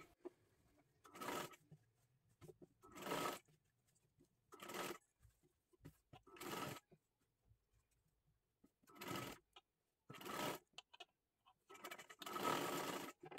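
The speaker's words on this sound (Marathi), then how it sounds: "एकदम कडेकडेला गळ्याला आपल्याला शिलाई करून घ्यायचं आहे" Sewing machine stitching the neckline of a child's kathpadar sari blouse, in about eight short bursts separated by near-silent pauses, close and fairly quiet.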